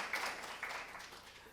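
Faint, steady clapping from an audience at a National Assembly policy forum on shipbuilding and defense, welcoming a keynote speaker, a Seoul National University professor, to the stage. The soft patter continues evenly for the full moment, with no voices over it.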